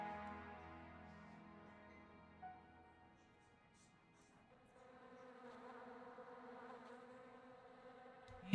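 Bees buzzing in a Lovecraft-themed video game, a sustained droning hum that wavers and swells over several seconds, with a faint tone underneath and a brief sharp noise at the end.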